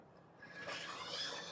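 An old file is drawn along a ski edge in a few quiet rasping strokes, a dry close-up scraping that grows slightly louder toward the end.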